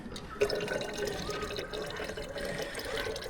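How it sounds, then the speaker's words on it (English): Filtered water runs from a tap into a bottle, a steady continuous splashing and trickle at moderate, close level with a brief clunk near the start and no talk. "let's first fill up on some free filtered water"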